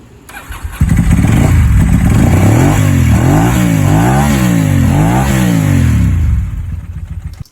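A Ducati 748 motorcycle engine starts and runs loud and close, its idle climbing and dipping through several revs as it warms up, with a steady mechanical clatter underneath.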